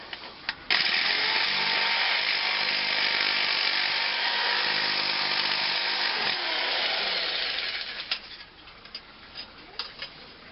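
A jigsaw cuts through sheet metal for a handmade metal rose, running as a loud continuous buzzing rasp for about seven seconds, then stopping with a few clanks and handling knocks.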